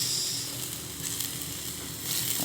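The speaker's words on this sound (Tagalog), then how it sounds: "Luto-lutuin lang po natin yung sibuyas ng konti at bawang" Onion and garlic sizzle steadily in a pot with chicken for a Filipino pork sinigang, a loud, even hiss with faint crackles and no speech.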